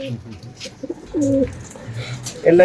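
Pigeons in a pigeon loft cooing close by, several soft throaty coos in a row over low rustling and faint background noise.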